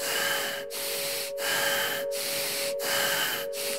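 Deep, fast rasping breaths of a meditation breathing exercise, steady and rhythmic, with short pauses roughly every 0.7 seconds, close and continuous against a faint steady tone.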